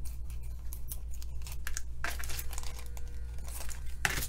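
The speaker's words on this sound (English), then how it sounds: "I just took a baggie and I cut off the top like that" A plastic baggie being handled and its top cut off with scissors, giving close crinkling and rustling with snipping and tearing sounds over a steady low hum.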